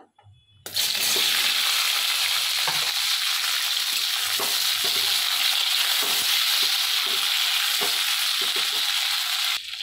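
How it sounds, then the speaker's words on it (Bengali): Washed grapes fry in hot mustard oil with dried red chillies in a kadai. After a brief quiet moment, a loud, continuous, close-up sizzle breaks out, with occasional soft stirring knocks beneath it. "আঙুরগুলো ভালো করে তেলে ভেজে নেব।"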